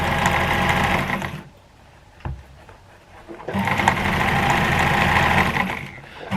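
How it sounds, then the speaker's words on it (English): A sewing machine stitches handbag fabric in a steady, whirring run, stops briefly with a small clunk, then starts up again for another long, even stretch, close and prominent. "I'm just sewing my last bit here"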